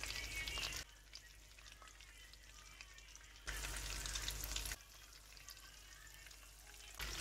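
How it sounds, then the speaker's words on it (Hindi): Fish pieces coated in gram flour fry in hot oil over a medium flame, heard as two short bursts of crackling sizzle separated by near silence. "इन पे मैंने बेसन लगा लिया, मीडियम फ्लेम पर इन्हें फ्राई कर लेना है।"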